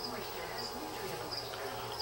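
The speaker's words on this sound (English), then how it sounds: "It's a cricket. It's a cricket. Get the cricket." A cricket chirps steadily in a pet enclosure at feeding time, a faint continuous trill under soft background noise with no clear talk.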